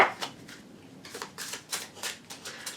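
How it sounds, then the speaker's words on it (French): Dragon oracle cards are shuffled and drawn by hand, a soft rhythmic series of riffling flicks and slaps, close and quiet, in several quick bursts. "Je vais vous tirer une carte avec l'oracle des dragons."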